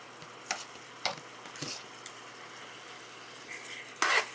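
Sticky sauce with crispy beef simmers in a pan, giving a soft, steady sizzle broken by a few faint scrapes and clicks of stirring, ending in a brief louder hiss.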